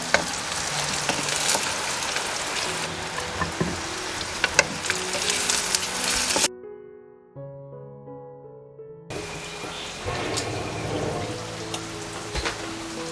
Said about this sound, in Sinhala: රටලුණු දැම්මා තෙල් එකට බැදෙන්න.